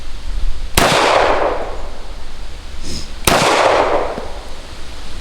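Two loud, sharp reports from a WWII army-issue Colt 1911 pistol fired outdoors at a range, spaced a few seconds apart, each with a brief ringing tail over steady background noise.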